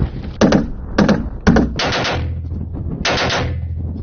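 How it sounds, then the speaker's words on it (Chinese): Gunfire from light machine guns and anti-tank rocket launchers during a high-altitude military exercise: several loud, sharp bursts and single reports close by, then longer rattling automatic strings over a rumbling background. "利用反坦克火箭筒和轻机枪等武器对敌残余力量进行清剿"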